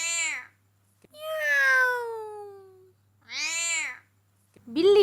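A human voice imitates cats meowing in a children's story, with three drawn-out, whiny meow calls separated by short silences and a fourth starting at the end, close and clear.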